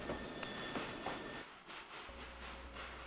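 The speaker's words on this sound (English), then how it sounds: "a westbound train of empty oil tankers headed for loading at Chama, New Mexico" Narrow gauge train of empty oil tank cars rolling westbound in Trainz 2009, a steady clickety-clack of wheels over rail joints with a continuous low rumble and a brief dip partway through, with no talk.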